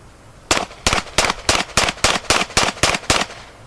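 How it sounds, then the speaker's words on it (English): Ten rapid shots from a semi-automatic handgun held in two hands at a target, each a sharp loud crack in an even, fast rhythm, with no talking. "fired off 10 shots as fast as he could"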